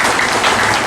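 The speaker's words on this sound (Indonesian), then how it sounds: "Kita beri aplaus buat beliau berdua" Steady, dense applause fills a gathering as the crowd claps for two guests, loud and close throughout the short burst.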